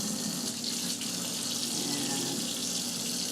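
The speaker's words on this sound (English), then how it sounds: "and cold water down the drain" Cold water runs steadily from a kitchen tap into the sink and down the drain, a continuous hissing splash with no pauses, close and moderately loud.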